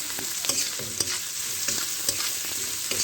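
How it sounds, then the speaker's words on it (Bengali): Shrimp frying lightly in a pan for a mixed vegetable curry, giving a steady close sizzle with regular scraping stirs of a spatula roughly every half second and no talk. "চিংড়ি মাছগুলো আমি স্বাভাবিক নরম করে ভেজে নেবো"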